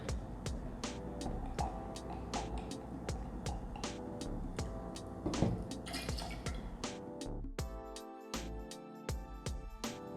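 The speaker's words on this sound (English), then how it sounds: "Now, take the triple sec and pour 3/4 of an ounce in the shaker." Triple sec poured into a cocktail shaker while making a lemon drop martini, a faint trickling liquid stream with small drips, ending in a few clear liquid splashes and clinks, with no talk.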